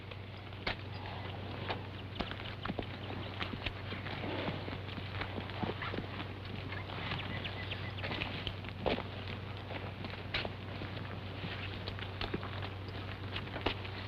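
Steady hoofbeats of tired horses hauling a heavy load clop along at a walking pace, faint and continuous over a low hum.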